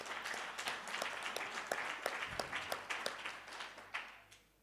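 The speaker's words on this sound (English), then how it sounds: "maybe to give another round of applause." An audience at a research conference gives a round of applause: a scattered, moderately quiet patter of individual claps that thins out and fades by the end.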